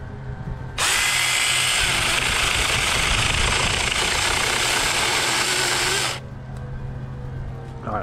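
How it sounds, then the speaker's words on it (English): A Saker mini chainsaw cuts through a tree branch above a river, its loud buzzing motor droning steadily for about five seconds before cutting off to quiet outdoor background. "Do the Saker mini chainsaw."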